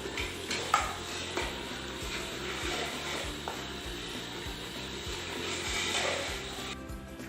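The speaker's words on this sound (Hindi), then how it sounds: "अब हम इसे 2 से 3 मिनट तक भूनेंगे।" Goat head and trotters (siri paye) roast and stir in a pot, with a steady sizzle under repeated scraping and clinking of a spoon against metal, close and continuous throughout.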